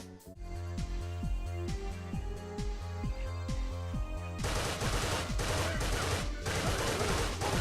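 Rapid Uzi submachine-gun bursts in the zombie shooter The Walking Vegetables, a steady rhythmic stream of sharp shots over a pulsing music track, growing denser and brighter partway through, with no talk.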